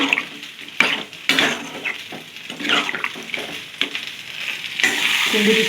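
Vegetables sizzle and fry in a pan, with repeated scraping stirs and clinks of a utensil against the pan, loud and close, no talking.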